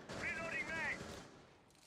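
Suppressed rifle tapping in Rainbow Six Siege, fired from somewhere off in a basement area, a quick muffled burst of shots heard faintly under game ambience.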